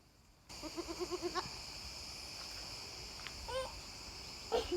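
Several goats bleat in a quick series near the start, then a few more scattered bleats against a bed of chirping insects; no talking.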